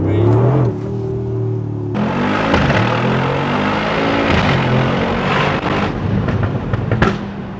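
A tuned Mercedes G63 AMG running on 99-octane V-Power fuel revs hard close by. Its exhaust roars and rises in pitch, and sharp pops and bangs break through the roar.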